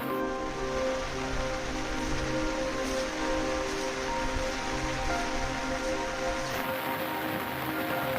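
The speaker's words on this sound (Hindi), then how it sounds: "इतनी तेज़ बारिश हो रही है ना" Heavy rain pours at Bisudi Tal lake on a mountain trek, a loud, unbroken wash of hiss close by with no talking.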